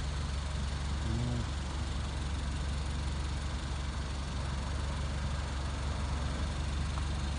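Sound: driving-practice car engine circling nearby

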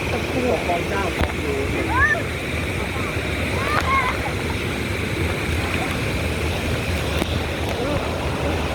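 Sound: Khlong Chao waterfall stream on Koh Kood

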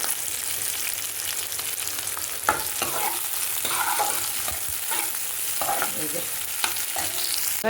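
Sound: onions frying in hot oil

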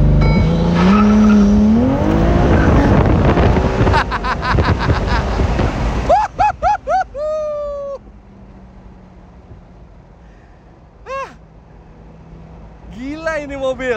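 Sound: Ferrari 296 GTS launch control acceleration

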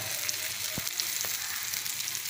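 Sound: stirring Chettinad prawn gravy in a pan

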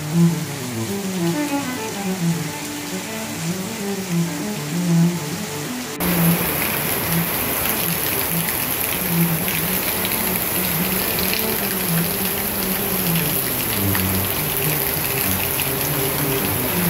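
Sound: sudden rain falling in Bali

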